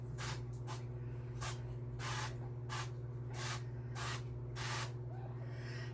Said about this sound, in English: we're going to spray our pan